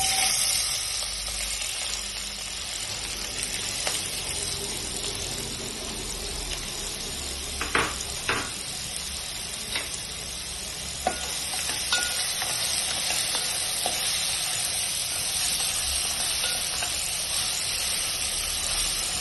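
Onions frying in oil in a pan for a prawn and egg curry: a steady, moderate hiss and sizzle running throughout, with a few brief clinks of a utensil in the middle.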